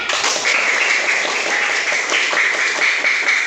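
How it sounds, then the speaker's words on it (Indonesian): A group of children claps together in a classroom, producing a dense, fairly even patter of handclaps that continues steadily from start to finish. "tepuk tangan buat Umay."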